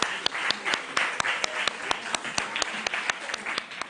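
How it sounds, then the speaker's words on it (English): Applause for teams at a junior school quiz, sparse sharp claps at an uneven rhythm from a smallish audience, moderately loud over a faint room background. "Round of applause for them."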